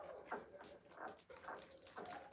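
A 2.5-week-old Cane Corso puppy whimpering, faint high cries repeating in four short bursts at a steady pace, close but quiet.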